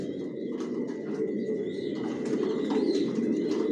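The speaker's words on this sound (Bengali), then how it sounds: "এখানে যে কবুতরগুলো দেখতেছেন এগুলো আমার মাস্টার পেয়ার রানিং পেয়ার, এগুলো রেস্টে দেওয়া।" Racing pigeons in a loft, a mix of low cooing and scattered chirps against steady broadband noise, the birds fairly close and continuous throughout.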